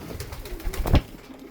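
Soft, low pigeon cooing repeats over a murmuring background, ending in a louder, fuller coo near the close.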